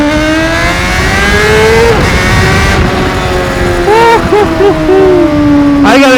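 A Honda CBR600RR sport motorcycle engine revs through an underpass, a loud, near, echoing drone that climbs and drops in pitch with several sharp blips and a final rising rev, with a voice talking over it.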